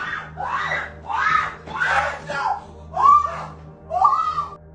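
Distressed screams and wailing during a domestic confrontation in an apartment, captured on a Facebook livestream: five or six rising, anguished vocal cries in close succession, near and loud, with no gunshot clearly audible.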